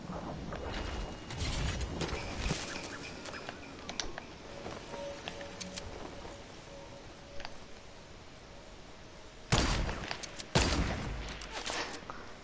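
Gunfire in a shooter video game, with sharp loud reports standing out near the end over a busy background of game effects and scattered smaller bangs, no talk.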